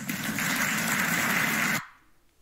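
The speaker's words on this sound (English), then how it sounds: "That got a round of applause from the entire audience." A political town hall audience applauds in a steady burst of clapping that cuts off abruptly, leaving near silence.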